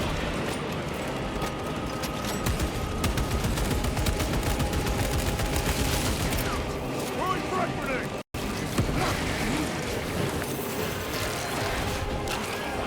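Dense, continuous gunfire and battle noise in Warhammer 40,000: Space Marine 2, a rapid barrage of shots layered over a roaring game soundscape, with a player talking over it.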